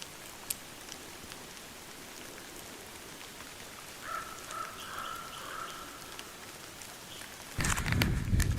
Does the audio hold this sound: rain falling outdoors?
yes